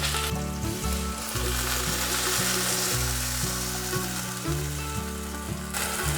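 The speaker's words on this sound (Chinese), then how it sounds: "大略翻炒后，放入蘑菇， 炒一炒" Mushrooms stir-fried in a hot pan give a loud, steady sizzle and crackle, with repeated scraping and tapping of a utensil against the pan, and no voices.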